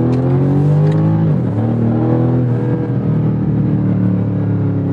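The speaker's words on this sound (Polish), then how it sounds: "Z tej strony aktywny wydech." A BMW M5 CS engine revs hard with a loud, throaty active exhaust note, the pitch dipping and then settling into a steady, rumbling idle.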